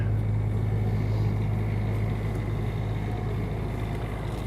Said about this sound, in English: I've got the generator fired up. This is an 8K generator.